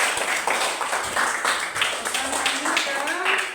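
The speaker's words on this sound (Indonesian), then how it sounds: "tepuk tangan buat kalian semua" Sixth-grade pupils in a primary school classroom clap together, a burst of close, uneven handclaps mixed with children's voices chattering over it.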